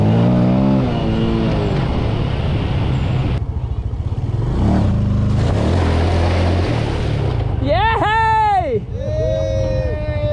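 A Yamaha PG-1 motorcycle engine drones steadily and loudly throughout while riding off-road, with voices speaking over it and a burst of wavering tones near the end.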